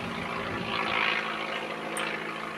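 A Bücker Jungmann two-seat trainer aircraft flies at the Shuttleworth Pageant air show in 2008, its propeller engine a steady, broad drone that swells slightly as it passes.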